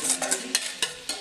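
Pasta with bacon and parsley being stirred into a sauce mixture in a pan, giving a series of soft, close scraping and sloshing strokes at an irregular rhythm.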